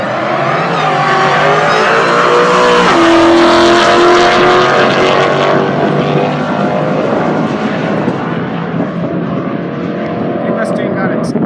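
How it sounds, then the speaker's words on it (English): Chevy and Mustang drag racing down the strip at Rocky Mountain Speedway at night, a loud, sustained engine roar that fills the whole stretch, swelling and easing slightly as the cars run. "see how the Chevy does versus the Mustang"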